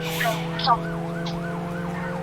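An ambulance in the video game JailBreak drives with its siren on, wailing in steady repeated sweeps over a constant engine hum. Brief voice-like bursts occur early in the sound.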